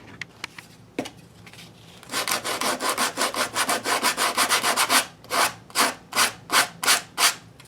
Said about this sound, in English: take some sandpaper and really take down that edge